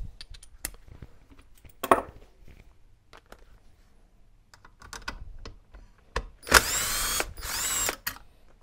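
A power tool undoes a T30 bolt on a Webasto Thermo Top V diesel coolant preheater, whirring in two close, loud bursts near the end after quieter clicks and handling noises.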